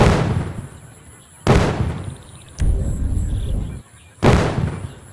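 Gunfire in the Indian Bike Driving 3D video game sounds as three loud, abrupt blasts, each decaying slowly into a rumbling tail, spaced about a second or more apart.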